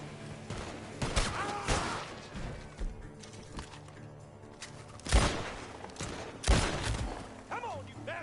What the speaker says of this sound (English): The gunshots are coming from the...